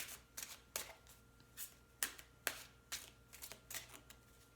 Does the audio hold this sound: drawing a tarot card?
yes